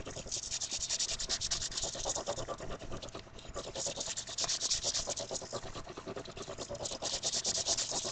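A BK-14 knife blade is worked continuously against a sharpening surface, giving a close, dense scraping rasp with a rapid back-and-forth rhythm that barely pauses.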